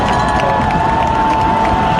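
Crowd cheering at a high school football game between Naperville North and Glenbard North, a loud, sustained roar of spectators with shouting and a steady whistle-like tone running through it.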